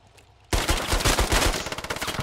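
Rapid automatic PPSh submachine gun fire in the video game Squad, set in Fallujah, erupts suddenly after a quiet start and continues as loud, dense, close bursts of repeated shots.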